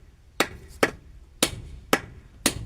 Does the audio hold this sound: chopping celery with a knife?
no